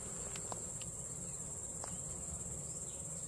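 Honey bees buzz steadily around an open hive during a summer inspection, forming a constant, fairly close insect drone with a few brief louder passes.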